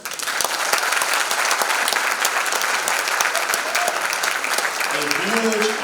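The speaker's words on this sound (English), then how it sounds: "A huge round of applause." A large audience at the KZN Youth Business Awards 2022 ceremony claps steadily and loudly for the KZN Top Business Woman of the Year winner, a dense sustained wash of hands throughout, with a voice rising briefly near the end.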